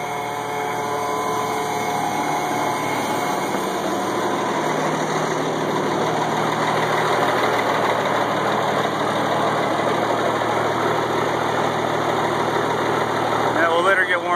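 A 1986 AM General M35A2C military truck diesel engine idles steadily after a cold start, a continuous loud rumble with a constant hum and no breaks throughout.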